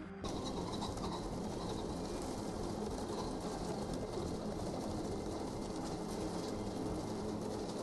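Pheasants caged for breeding on a game-bird farm call out in a panic over dense, continuous clatter and rustle that stays at an even, loud level throughout.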